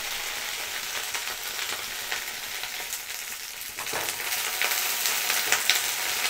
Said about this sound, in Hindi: भिंडी को हमें हाई फ्लेम में हल्का सा गोल्डन होने तक फ्राई करना है।